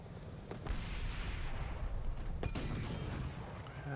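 Tank guns fire in the World of Tanks game, with several booming shots and sharp cracks over a continuous low rumble of engines and battle ambience, moderately quiet overall.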